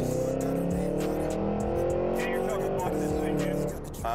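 A 2024 Cadillac Escalade V accelerates hard with a loud, sustained engine roar that climbs steadily, heard from inside or near the vehicle, while people talk over it.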